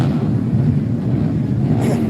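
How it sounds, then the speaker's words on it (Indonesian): Loud, steady street traffic at Anjungan Mangkawani in Kabupaten Soppeng, with many motorcycles crowding the road during a declaration event, a continuous dense engine rumble and whir close by. "Motor cukup banyak sekali."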